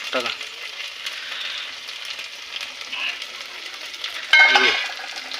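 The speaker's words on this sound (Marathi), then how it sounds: "अद्रक लसणाची पेस्ट त्याच्यात चांगली शिजू द्यायची, तळू द्यायची" Ginger garlic paste frying in a pan for a rustic goat paya biryani, a steady dense sizzle throughout with a stirring scrape and louder crackling burst near the end; no talk.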